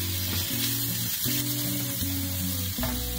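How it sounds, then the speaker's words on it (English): Tofu sizzles steadily in hot coconut oil in a pan, a continuous close frying hiss under gentle background music. "I'm going to fry the tofu for about 1 minute or so"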